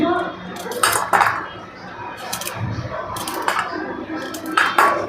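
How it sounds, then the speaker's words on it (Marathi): Garlic cloves chopped for a pea kachori masala, a handful of sharp knife taps and clicks on a board, uneven and close, with soft kitchen clatter between. "मी आता इथं लसूण घेतला आहे तो थोडा कट करून घेते"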